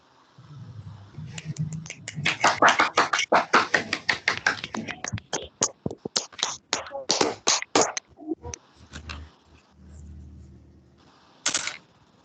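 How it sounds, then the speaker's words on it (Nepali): A group bursts into loud, dense clapping applause at an online computing project session, peaking early and then thinning into scattered claps before a few final taps, with faint background noise. "ल ताली बजाइदियो एकचोटि फेरि ठुल्ठुलो स्वरमा."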